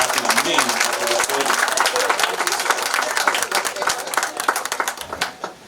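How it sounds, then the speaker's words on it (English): A crowd at a clinic launch event claps warmly and continuously, loud and close, with a faint voice underneath before the clapping tapers off near the end. "So let's give a round of applause for not only helping me"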